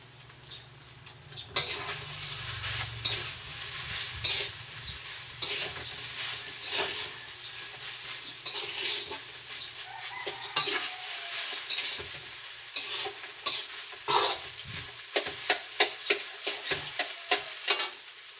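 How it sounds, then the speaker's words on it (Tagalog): A utensil stirs leftover rice frying in a pan for Filipino garlic fried rice (sinangag), with a steady sizzle under quick scraping strokes that turn into rhythmic clicks and scrapes toward the end. "Hahaluin ko muna siya."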